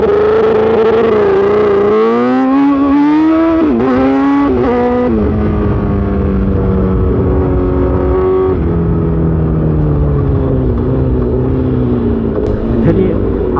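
A Honda CBR1000RR sportbike pulls away in first gear using launch control, its engine note rising in repeated surges as it runs through the revs. The engine is loud and close throughout, with talking over it at times.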